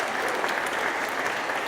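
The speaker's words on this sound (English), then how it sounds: "we should give them a big round of applause for joining us tonight." Steady, dense applause from a concert audience at a traditional music society's 40th anniversary event, even and sustained throughout the short stretch without talk.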